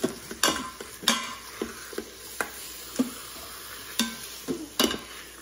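Food stirred in an Instant Pot for chicken Florentine pasta, a spoon knocking and scraping the pot in an irregular run of about a dozen sharp clicks over a faint sizzle, close by.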